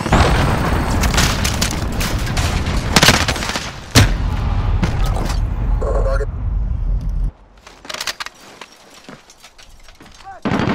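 A grenade detonates in Call of Duty: Modern Warfare amid the thick din of a firefight. Heavy booms and rattling gunfire dominate before the noise cuts away to scattered quieter shots.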